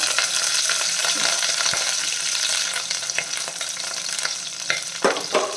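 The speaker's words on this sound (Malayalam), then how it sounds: "ഞാൻ കറിവേപ്പില ഇട്ട് കൊടുത്താണ് കുറച്ച് കറിവേപ്പില ഇട്ട് കൊടുക്കാം" Curry leaves drop into hot oil left from frying chicken, giving a dense, continuous crackling sizzle with scattered pops and stirring clicks, close and fairly loud with no voices.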